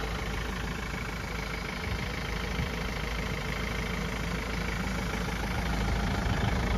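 A car engine idles steadily on a cold day with smoke coming from the exhaust, a constant close-up running drone with no change in pitch throughout.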